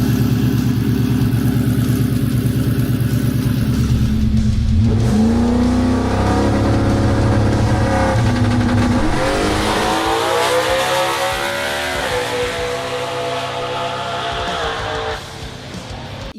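A C10 pickup truck drag racing down a quarter mile, its engine roaring loud and close, rising in pitch through the gears with sharp shifts and a sustained high-revving wail as it pulls away.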